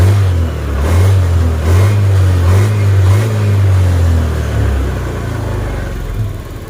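A Honda Scoopy automatic scooter with a repaired idle screw leak and injector trouble runs close by, its engine rising and falling in several quick revs over a steady idle, with no talking.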